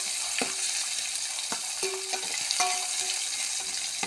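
Chopped garlic sizzles and browns in a hot pan of oil just before oysters are added, a steady crackling hiss broken by a few sharp clicks of a stirring utensil, close and alone without voices.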